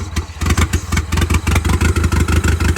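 Mitsubishi DSM engine with several vacuum leaks runs loud and close, a rough, clattery idle with rapid uneven pulses and slight rev fluctuations throughout.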